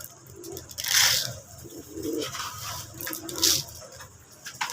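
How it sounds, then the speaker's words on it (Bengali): Soft coos from released local Bangladeshi pigeons murmur in a low register with some bird chatter and a couple of brighter rustling bursts, fairly close, no speech. "কবুতরগুলো ছেড়ে দিলাম"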